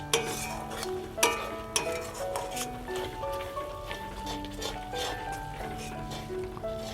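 Garam masala is stirred into chicken curry in a pot, with soft scraping and clinks of a spoon against metal and faint sizzling, quiet and close.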